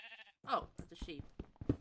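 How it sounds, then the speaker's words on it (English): A short sheep bleat from Minecraft 1.17 sounds at the start, followed by a person talking briefly in a quiet setting. "Oh, it's a sheep."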